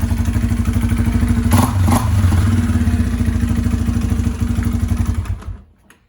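A 2008 Yamaha Raptor 350 ATV, its front end damaged from a collision, idles nearby with a steady, loud, throbbing engine pulse and light clattering, then fades out toward the end.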